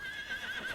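A horse whinnies in the farming video game Farming Simulator 25, a short, continuous neigh carried over a steady background sound with no talk.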